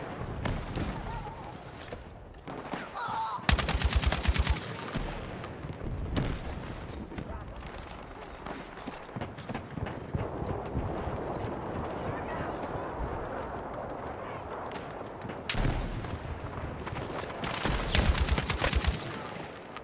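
Battlefield 6 video game gunfire: bursts of rapid automatic shots and loud fusillades amid constant battle noise, with a player talking over it throughout.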